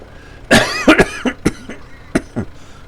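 Several sharp coughs in a row, close and loud, followed by a few throat-clearing sounds with short pauses between.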